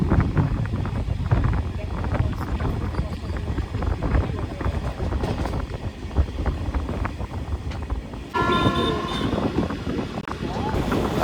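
The Kanchanjungha Express rolls slowly along the line, a steady low rumble with wind buffeting the microphone, while a voice talks over it.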